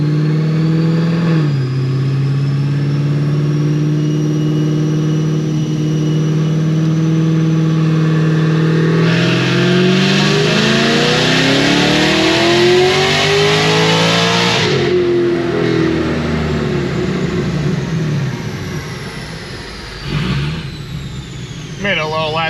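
A supercharged Cadillac CTS-V with a Magnuson 2650 blower, tuned to about 1200 horsepower on E85, idles loudly, then revs up hard with rising whine and falls back, close and alone.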